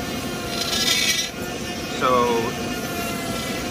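A Ryobi brushless rotary tool for wood carving runs at high RPM, giving a continuous, close whirring drone with a brief rising whine partway through. Someone speaks over it.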